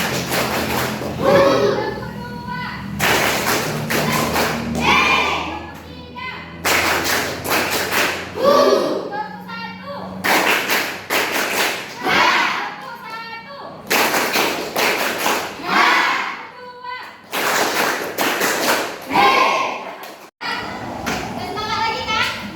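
Children clap in a classroom clapping game, the pattern called out in Indonesian. Bursts of sharp claps alternate with a teacher's spoken calls, and children's voices come through between the clapping.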